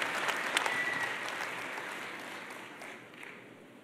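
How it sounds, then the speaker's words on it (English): Audience applause at a large annual business conference keynote, a dense, steady wash of many hands clapping that starts loud and gradually thins out toward the end, with no talking over it. "Let's give them a round of applause for their fabulous achievements"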